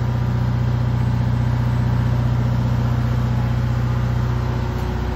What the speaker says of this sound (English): Now our generator just kicked on, and we can turn on all of our breakers